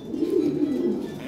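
Toy Lahori pigeons, an imported pair, cooing steadily in a low, soft, continuous murmur close by with no talk over it.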